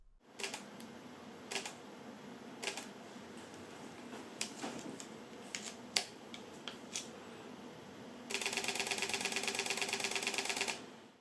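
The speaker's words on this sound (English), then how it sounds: "Even the mechanical shutter is extremely quiet. Hear this." Soft, sparse mechanical clicks from a Panasonic Lumix G90 camera's quiet mechanical shutter, spaced irregularly, then a steady buzzing whir near the end, quiet and close with no voices.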